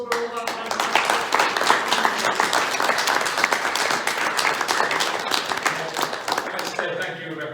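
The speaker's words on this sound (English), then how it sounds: "So a round of applause for all of our fantastic." Audience applause at a seminar on nuclear veteran descendants in Manchester, a dense steady clapping from a sizeable crowd that holds for several seconds, with some voices mixed in and a fade near the end.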